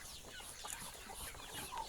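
Farm chickens clucking at a distance on a cold day, soft scattered calls over a steady outdoor hiss, with no voices.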